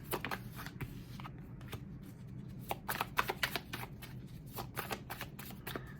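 Tarot cards being shuffled by hand, producing soft close riffling and flicking bursts in an irregular rhythm, quiet with no talking.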